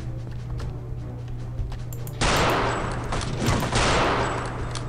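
Heavy gunfire erupts in Return to Castle Wolfenstein, a sudden loud burst of rapid shots that cuts in after a quieter stretch and keeps hammering, dense and close.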